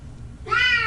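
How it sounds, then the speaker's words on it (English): A cat meows once over a live microphone during a music show, a single clear, rising call that starts halfway through after a quiet low hum. "I think that's his cat."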